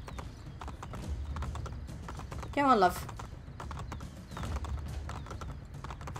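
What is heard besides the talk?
horse hooves clip-clopping in video game Assassin's Creed Brotherhood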